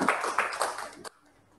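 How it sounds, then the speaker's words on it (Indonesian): Fifth-grade schoolchildren in an elementary classroom clap together in a short, rhythmic burst that stops abruptly, leaving quiet room tone. "Tepuk tangan anak-anak."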